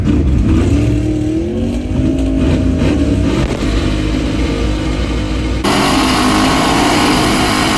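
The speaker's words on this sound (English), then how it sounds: "I'm gonna try and burn out in second." A 1971 Dodge drag car's engine revs hard and steadily through a second-gear burnout, loud and close with a rising pitch, then a sudden jump to a harsher, brighter roar near the end.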